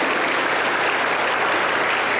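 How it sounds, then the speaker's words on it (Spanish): A church congregation in Junín, Peru applauds during a worship service, dense continuous clapping from many people, loud and steady throughout without a break. "Aplauso para el Señor."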